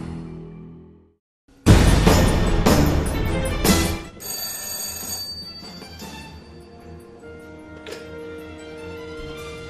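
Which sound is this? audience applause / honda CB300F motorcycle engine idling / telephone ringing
telephone ringing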